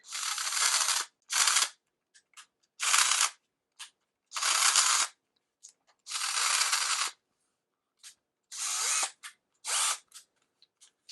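A Bosch PS31 12V drill, its motor caught between first and second gear, grinds in a series of short, harsh bursts of varying length separated by silence, close and loud with small clicks between runs.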